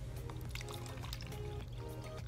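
Water poured a little at a time into small containers set up as a model toilet for a wastewater lesson, a soft splashing trickle running continuously under a low hum.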